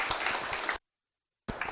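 Audience applause at a Korean labour attorney exam strategy seminar, a dense burst of clapping that stops abruptly, then resumes after a short silence.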